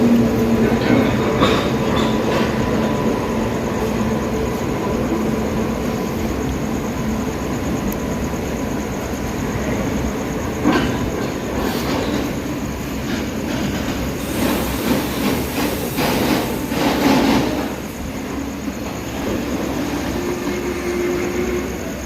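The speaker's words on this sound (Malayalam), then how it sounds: "ഇവിടെ ഒരു ഗുഡ്സ് ട്രെയിൻ വന്നിരിക്കുകയാണ്" A long goods train of covered BC wagons from Northern Railway rolls past a junction station, with a loud continuous rumble, clattering wheels and occasional squeals filling the whole stretch at close range.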